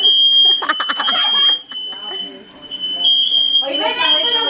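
A home smoke alarm gives a continuous high-pitched electronic tone that runs through the whole stretch, while several people talk and exclaim loudly over it nearby.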